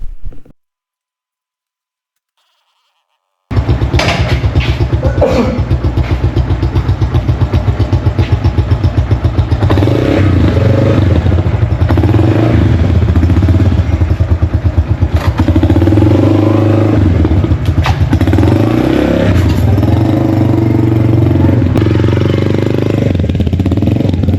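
A motorcycle engine runs steadily throughout on a road trip from Lahore to Naran Kaghan, a loud, close drone with a rumbling low end, after a brief quiet start and with no talking.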